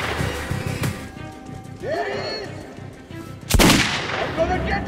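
Single sharp gunshot fired at a light in Metro 2033 Redux cracks loudly near the end, following a stretch of muffled ambient noise and faint movement.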